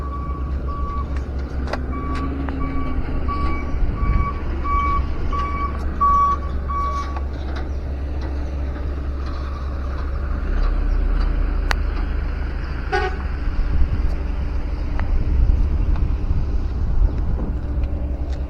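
Heavy construction machinery at work on a toll road site, with a repeating reversing beep, horn toots and a constant low engine rumble, loud and close, with scattered clanks.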